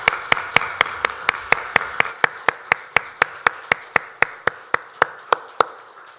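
A church congregation at a Sunday worship service claps in steady unison, about three sharp, evenly spaced claps per second for six seconds, close and distinct over a faint room background.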